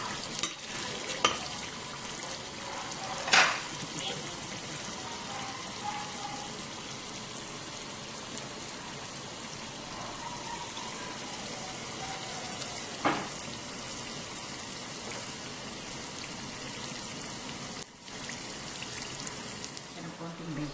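Chili garlic sauce fries in a pan while being stirred, a continuous bright sizzle with occasional scraping clicks of the spoon against the bottom, steady and close.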